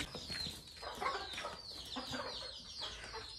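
Chickens, including a large rooster, cluck and squawk in a busy, overlapping stream, fairly close, with no talking.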